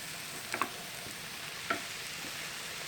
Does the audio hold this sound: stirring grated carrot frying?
yes